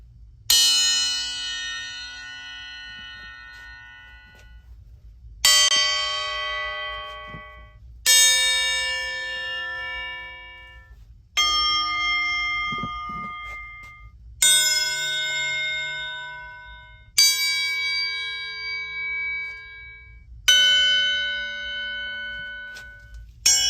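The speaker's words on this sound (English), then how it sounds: "We've hung these up before and tapped them with a ball peen hammer just to hear the sound" Steel crowbars hung up and tapped one by one with a ball peen hammer, each strike a sharp metallic ping that rings out in long bell-like tones before decaying, about eight separate strikes with pauses between.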